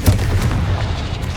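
A single Confringo spell explosion from the Hogwarts Legacy video game: one deep, loud boom that hits hard, then lingers as a low rumble for about a second.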